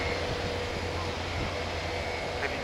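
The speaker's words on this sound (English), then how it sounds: "the Super Hornet, the Super Bug, I've heard it called as well, is on the end of the runway." An F/A-18 Super Hornet jet sits at the end of the runway at an airshow, giving a steady, broad engine roar and rumble that holds level throughout, with no clear spool-up.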